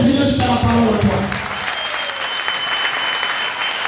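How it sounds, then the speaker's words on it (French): A church congregation bursts into loud, sustained applause in a large room. It starts over a voice and fills the hall with dense clapping. "On acclame le Seigneur si tu as la parole en toi."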